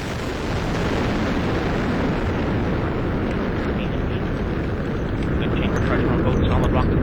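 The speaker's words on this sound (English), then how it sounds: "liftoff of the United Launch Alliance Delta IV rocket carrying the NROL-45 mission for the National Reconnaissance Office" Liftoff of a United Launch Alliance Delta IV rocket carrying the NROL-45 mission for the National Reconnaissance Office: a loud, continuous, deep broadband roar that holds steady and swells slightly toward the end.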